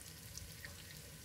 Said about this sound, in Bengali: এখন ডালটাতে ফোড়ন দিব